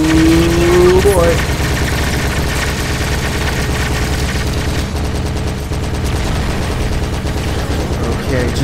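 Gunfire in the mech action game War Tech Fighters: loud, continuous rapid weapon bursts and mechanical rumble, with a voice talking over the din.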